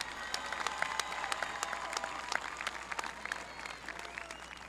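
An audience at a Licking Heights school graduation ceremony gives a steady, dense round of applause. Many hands clap at a moderate distance for several seconds, with a faint murmur underneath.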